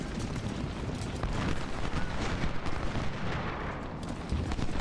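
Musket volley fire in the strategy game Ultimate General: a dense, continuous crackle of many rifle shots rolling together with heavy rumbling booms, loud and sustained throughout without pause.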